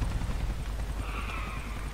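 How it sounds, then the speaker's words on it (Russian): Helicopter landing at an airport in Grand Theft Auto IV, a continuous low rotor drone with a thin whine rising briefly midway, steady and moderately loud. "Вертолет приземляется"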